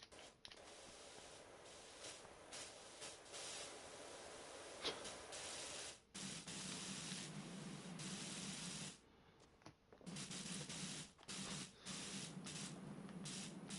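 Pressure washer spraying in the video game Powerwash Simulator, a steady broadband hiss of water jet that runs almost continuously, dropping out briefly a couple of times before resuming.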